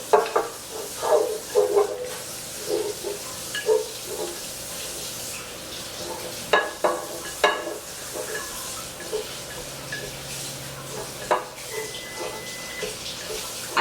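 A sweet potato soufflé mixture is beaten by hand in a bowl, producing irregular wet slapping and scraping strokes in uneven bursts, close up, with quieter stretches between.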